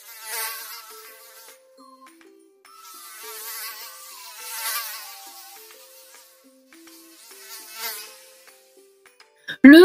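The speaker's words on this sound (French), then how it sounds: "Un minuscule moustique bourdonne joyeusement autour de ses oreilles." A tiny mosquito's buzz, rendered as a thin whining tone that rises and falls in pitch in wavering bursts with short pauses, ends in a sudden loud noise.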